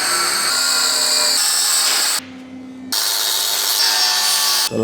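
A power saw cuts through material on a Veloster 1.6T mount, loud and continuous, with a brief pause in the middle before cutting resumes.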